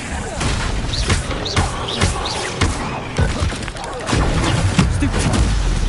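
In a Harry Potter video game, an Incendio fire spell is cast during a fight with spiders, with booming, crashing bursts and crackling impacts layered over game noise, loud and close, while a voice speaks nearby.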